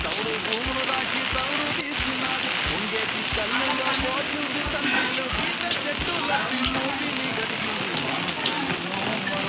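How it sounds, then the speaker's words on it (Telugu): Heavy rain falls over a village road, a constant close hiss and patter with intermittent louder drips, steady for the whole stretch. "వర్షం ఎట్లా పడుతుందో చూడండి."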